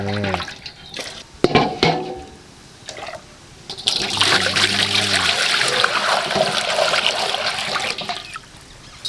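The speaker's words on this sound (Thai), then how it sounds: "เดี๋ยวเราก็จะใส่น้ำเย็นแทนลงไปเนาะ" Cold water is poured into a pot to replace water scooped out while cooking chicken. It starts as a few splashes and trickles, then becomes a steady, close rush of pouring that fades at the end.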